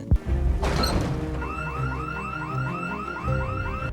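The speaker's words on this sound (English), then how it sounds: "I had just tripped the alarm within 5 minutes of playing on this map" An electronic alarm in the video game Project Zomboid wails in rapid repeating rising chirps after a loud crash, looping steadily and fairly loud.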